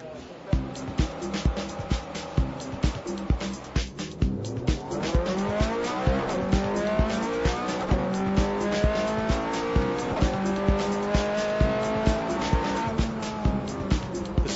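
A 2008 Ferrari 430 Scuderia is driven hard on the Fiorano track, its engine loud and close as it revs and climbs through gears, with tires squealing and skidding through the corners.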